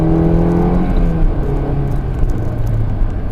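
A car, downshifted to third, accelerates through a corner on a racing track: loud, close engine roar climbing steadily in pitch throughout.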